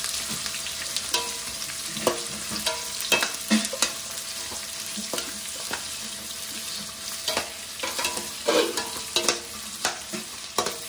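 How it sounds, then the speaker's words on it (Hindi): Onions fry in a pan while being stirred for paneer do pyaza, giving a steady close sizzle broken by repeated scraping and clanking stirs. No voices. "अब इसमें हम प्याज डाल देंगे।"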